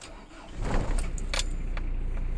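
A Ford Ranger TDI diesel engine cranks and catches after the glow plugs warm, rising quickly into a steady, close idle, with a couple of faint key clinks near the start.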